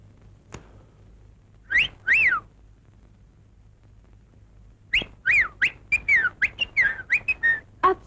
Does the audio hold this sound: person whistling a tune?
yes